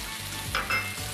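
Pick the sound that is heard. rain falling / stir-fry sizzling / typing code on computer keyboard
stir-fry sizzling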